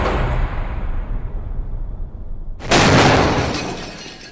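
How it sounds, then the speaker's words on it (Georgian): A building door is blown open by an explosive breaching charge during a 2009 special operations training exercise: a single loud, sharp blast hits abruptly after a stretch of low rumbling, followed by a bright crack and fading debris noise. "სადაც საჭიროა შენობის კარიც უნდა აფეთქდეს."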